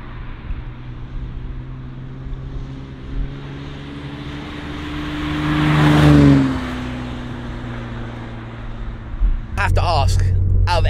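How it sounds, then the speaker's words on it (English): A Toyota MK2 cruising, its steady low engine drone running under the cabin with a smooth swell of revs midway before easing back, then a brief burst of voice near the end. "I love driving this, like just cruising"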